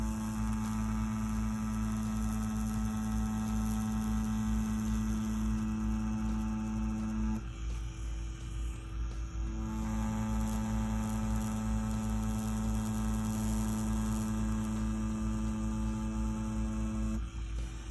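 A Mummy rotary tattoo machine runs steadily while pulling lines, a constant close electric hum that cuts out briefly midway and then resumes.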